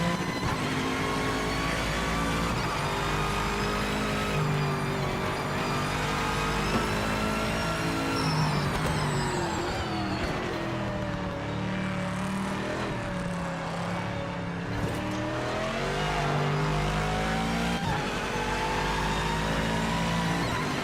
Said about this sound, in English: The sound of this AMG is bloody lovely.